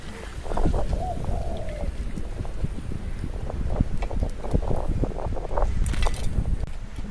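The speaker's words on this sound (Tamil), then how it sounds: "காற்று பறக்குது" Steady outdoor wind rushing and buffeting, with scattered rustling and crackling throughout; no talking.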